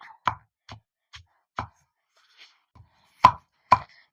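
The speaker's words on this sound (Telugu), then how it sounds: "ఇగో ఇట్లా మనము పచ్చి దంచుకున్నాలి." Raw mango pickle pounded by hand in a stone mortar, with a series of separate dull thuds, some sharper and louder than others, spaced unevenly and close by, with quiet gaps between strokes and no talking.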